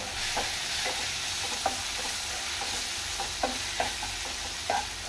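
A coriander and chili powder mixture is stirred in a hot pan, with a steady sizzle and repeated scraping strokes of the spoon at an uneven rhythm.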